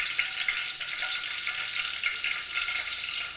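Mustard seeds crackle and sizzle in hot oil in a home kitchen, a steady, fairly quiet hiss with small pops scattered through it and no voices.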